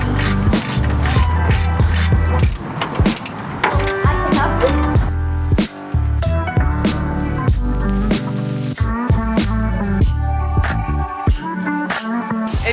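A ratchet clicks rapidly and loudly up close as it tightens bolts on hidden bumper hardware of a widebody FRS, in quick bursts with short pauses between runs.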